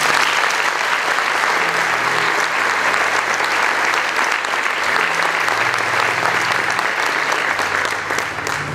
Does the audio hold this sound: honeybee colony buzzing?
no